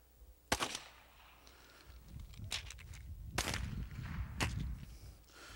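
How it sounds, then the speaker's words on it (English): Several sharp .22 Long Rifle rifle shots fired at extremely close range crack out one at a time with uneven gaps between them, loud and abrupt, over a low rumbling background with no talk. "fired from a rifle at extremely close range"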